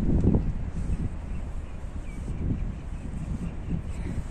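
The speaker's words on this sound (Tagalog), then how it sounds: "Sound ng hangin." Steady wind noise rumbles and buffets low and close, with gusty swells and no voices.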